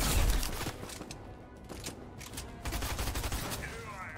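Gunfire from a Fortnite match, with shots crackling and bursting over continuous game noise, fairly loud and mixed with background sounds, no speech over it.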